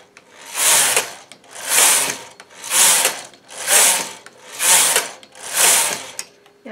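Rows being knitted on a domestic knitting machine at loose tension 7 for a small Christmas stocking: six even sweeps of the carriage, each a loud rattling whirr about a second long with short pauses between, close and with no talk.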